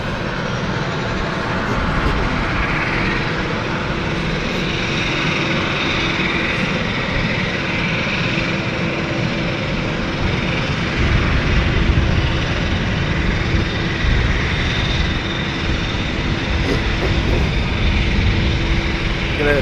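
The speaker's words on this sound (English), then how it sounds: "we now have a Dash 8 starting up as well" A Dash 8 turboprop starting its engines at London City airport, a rising propeller drone with a steady tonal whine building over a broad rumble, fairly close and continuous with no talk.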